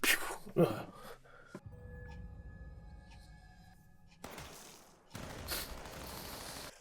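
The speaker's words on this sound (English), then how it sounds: "Watch, he gets shot in the side of the head." Gunfire rings out in a Squid Game season 2 episode: a sharp cluster of shots opens the scene, followed by a tense, sustained tonal score and later bursts of noisy action.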